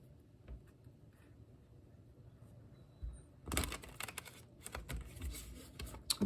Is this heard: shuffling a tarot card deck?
yes